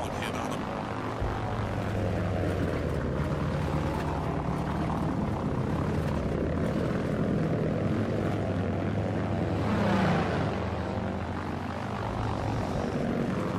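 An aircraft in the video game Battlefield 1943 roars steadily as it takes off, a dense continuous propeller engine drone that swells slightly near the end.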